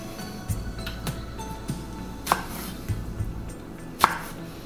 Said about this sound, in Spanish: Partimos también los tomatillos. Vamos a partirlos así en 8.